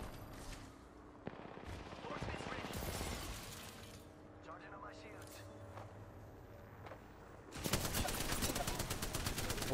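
Rapid automatic gunfire in Apex Legends, in the Three Strikes mode, with several close bursts and scattered shots, ending in a loud sustained volley; game effects fill the gaps between bursts.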